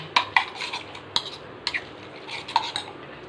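Chicken gravy being mixed on a dosa with a utensil, heard as scattered light metallic clinks and scrapes against a pan, close and fairly quiet with no voices.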